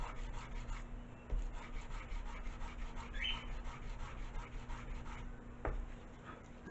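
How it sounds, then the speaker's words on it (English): Hand sanding of a balsa glider wingtip for a Science Olympiad elastic-launched glider, a steady close rubbing scrape running continuously throughout with one or two sharper scratches. "Now I'm going to sand down that last bit of the wingtip."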